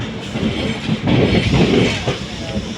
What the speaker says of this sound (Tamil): மங்களூர் வண்டி பேசஞ்சர் தான்